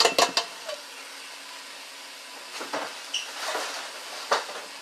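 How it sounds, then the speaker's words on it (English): Sloppy joe ground meat and canned tomato sauce being stirred in a pot: a few quick scraping clatters at the start, then softer intermittent wet scrapes and clinks of the spoon, close and moderately loud. "And then I'll stir it all together"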